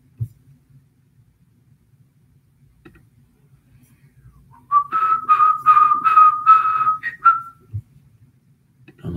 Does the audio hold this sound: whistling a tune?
yes